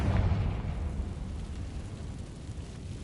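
A Confringo spell explodes in the Hogwarts Legacy video game: a loud, deep booming blast whose low rumble slowly fades over about three seconds, with no talking.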